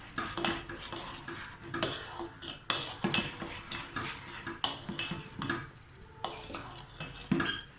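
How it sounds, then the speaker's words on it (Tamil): A spoon stirs a custard mixture into milk in a metal pan for a custard fruit salad, with steady clinking and scraping strokes that run close and continuous and no talk. "இப்போ இந்த கலக்கி எடுத்ததை நம்ம இந்த பாலில் மிக்ஸ் பண்ணிக்கலாம். நல்லா கலக்கி விட்டுலாம்."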